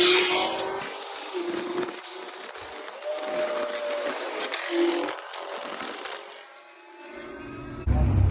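Chevrolet Camaro ZL1 and a Nissan GT-R racing, roaring engines rising and passing at a distance, with broadband rush and a fading tail before a loud close bump at the end.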